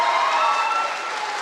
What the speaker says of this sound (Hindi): दामोद कुमार, सबके लिए जबरदस्त ताली होनी चाहिए।